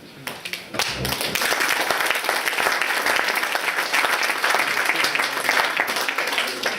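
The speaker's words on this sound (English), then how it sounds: "I think it's incredible to get a round of applause just for daring to do the vote of thanks." A round of applause fills a Rotary Club Burns Supper hall after a vote of thanks, with many hands clapping densely and steadily at close range for several seconds.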